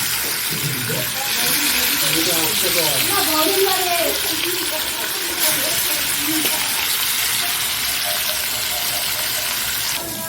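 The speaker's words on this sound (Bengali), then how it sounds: "আর এই যে এইদিকে মাছ ভাজা হবে" Fish frying in a pan in a home kitchen, cooked alongside khichuri and cabbage, gives a loud, steady broadband sizzle throughout, with voices talking faintly underneath.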